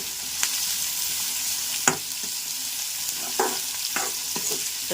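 Onion pieces fry in a pan for radish tamarind stew, a steady soft sizzle with occasional sharper crackles and stirring scrapes, moderately close and fairly quiet, with no voices.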